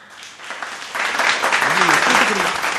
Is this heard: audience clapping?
yes